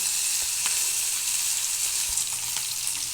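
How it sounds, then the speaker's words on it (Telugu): Bitter gourd pieces and plenty of sliced onion fry in a pan. A loud, steady sizzle stays close throughout, with small crackles and the occasional stir, and no voices. "ఉల్లిపాయలు ఎక్కువ ఉన్నాయి కాకరకాయ ముక్కలు ఏదో రెండు మూడు ఖాళీ ఓన్లీ టేస్ట్ కోసం అలా ఫ్రై చేస్తున్నాను"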